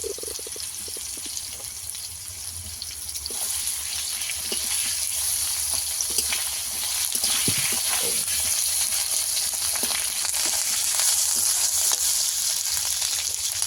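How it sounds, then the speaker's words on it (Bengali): Fish curry sizzles steadily in a pan as ginger paste goes in, a continuous hiss of frying with scattered soft clicks and scrapes, fairly close and alone without talk. "এবার আদা বাটা দিয়ে দেব"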